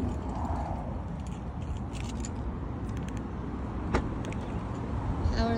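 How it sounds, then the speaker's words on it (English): A 2020 Ford Explorer XLT power liftgate operates with a faint, steady mechanical motor hum and soft clicks, including one sharp click near the end, at low volume. "Power lift gate."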